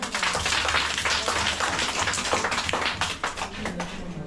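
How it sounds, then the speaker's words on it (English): Schoolchildren in a grade 2 classroom at an independent community school in Kibera clap together, a dense, steady patter of many small hands that stays fairly even and close throughout. "Aya, clap for Iki"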